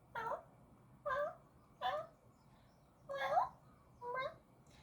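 A person's voice imitates a pet cat named Creamsicle yelling at 5 a.m., five separate short whiny mewling calls spaced about a second apart, close and moderately loud over a quiet background.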